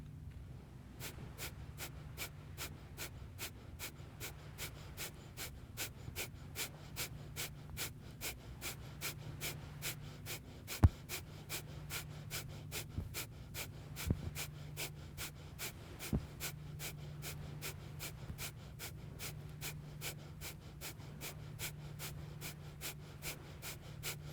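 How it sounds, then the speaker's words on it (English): Breath of fire during Kundalini yoga: light, rapid panting through the nose in a fast, steady rhythm of short sharp exhales repeating for over twenty seconds, close and quiet, with no talking. "which is light panting through the nose, making sure that your navel center draws in on the exhale"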